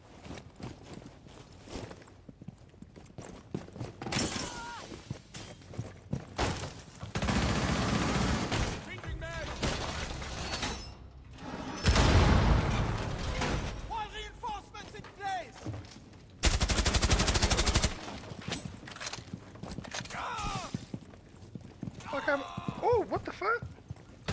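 Gunfire in an online multiplayer shooter video game: scattered shots and several loud bursts of rapid fire, near and far, with footsteps and game effects between them and a player talking over parts.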